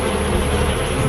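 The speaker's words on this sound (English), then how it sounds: "the bees crowd belly to belly against the invading beast." Bees massing in a swarm around an invading hornet, a dense, steady insect buzz filling the air closely and without pause.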